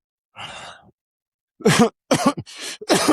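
A short throaty cough, then several louder harsh bursts in quick succession, close and unaccompanied by speech.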